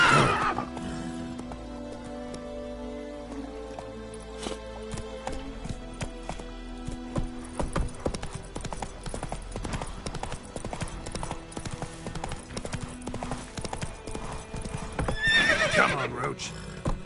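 Witcher 3's horse Roach gallops with rapid, driving hoofbeats, and loud neighs and whinnies come at the start and again near the end, with game sounds and speech mixed in.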